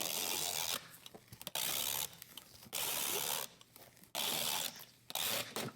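Packing tape pulled and pressed onto a cardboard shoe box while it is sealed for shipping, several long loud ripping strips separated by short quiet gaps.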